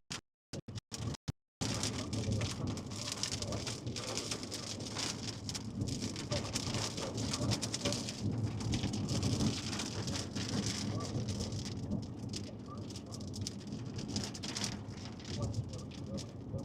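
Steady heavy rain pounds the outside of a storm-chase car during a supercell storm, with wind and low thunder rumbling throughout, preceded by a few brief sharp bursts at the start; a voice speaks faintly beneath.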